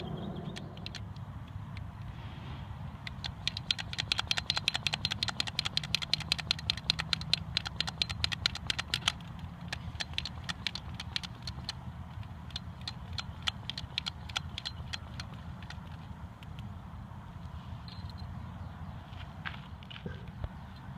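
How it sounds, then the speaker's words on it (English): Fuel bottle pressurizer plunger on a camp stove fuel bottle being pumped by hand, a rapid run of sharp rhythmic clicks and squeaks close by that gradually slows and thins out, with no talk over it. "Once I've added the fuel bottle pressurizer, there's a plunger. I like to give it at least 50 pumps"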